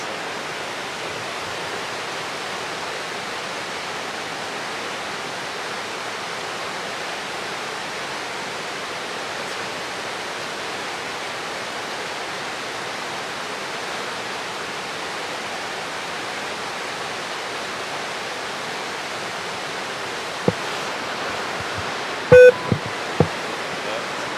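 A high stream rushes steadily in a Rhode Island nature setting, a broad continuous roar of flowing water that stays even throughout, with a few faint clicks and bumps near the end.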